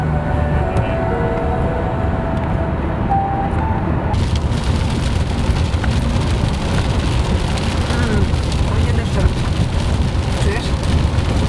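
Steady rain pours down outdoors near a forest, a dense close hiss that grows noticeably heavier after the first few seconds and continues throughout, with people talking over it.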